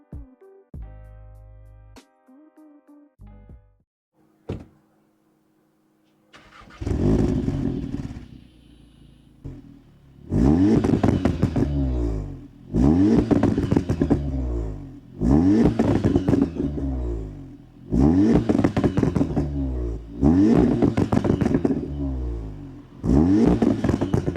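A 310-horsepower small car drives off and accelerates hard in repeated bursts, each rev rising then dropping as gears change, loud and close after a quieter idle and a few clunks at the start.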